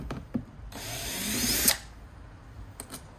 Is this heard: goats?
no